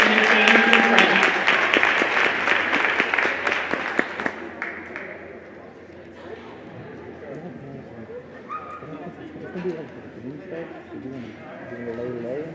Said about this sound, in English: Fans, please give a Warren Harding greater round of applause for our 2020 Warren Harding Girls Basketball Seniors and their families and friends.